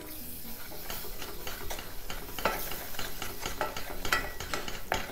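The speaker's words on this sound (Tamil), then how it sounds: "மைதா இதை போட்டு நம்ம லேசாக வறுக்கணும்" Maida flour is lightly roasted in a pan over low heat, with a spoon stirring and scraping in a steady rhythm and a faint sizzle beneath. No one speaks.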